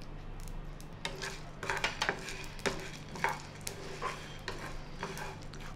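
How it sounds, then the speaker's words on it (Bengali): Whole spices, panch phoron and cumin with plenty of coriander, fry on a low gas flame for a street-food chotpoti, a soft sizzle under repeated clinking stirs of a spoon against the pan. "গ্যাসের ফ্লেমটাকে আমি হালকা করে মশলাগুলো ভেজে নেব।"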